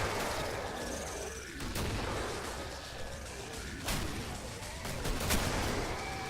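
Gunfire and a grenade blast in the video game Killing Floor, with repeated sharp shots and bursts over a dense, loud wash of game noise and effects, no speech.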